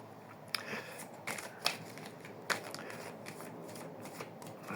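A deck of cards being shuffled before one card is drawn: soft, close riffling and flicking bursts over a steady hiss, with no talking.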